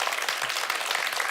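An audience at a church lecture on worship gives brief, faint applause, a soft spread of clapping from a distance.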